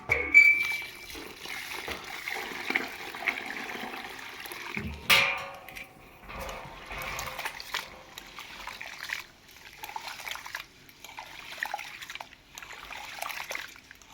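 Three kilograms of rice grains being rinsed by hand in water for traditional sal papad, giving an uneven run of close trickling, dribbling and sloshing with scattered clicks and a louder splash partway through.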